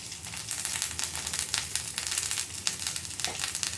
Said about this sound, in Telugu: ఇదిగోండి పోపు వేగిన తర్వాత కాకరకాయలు వేసి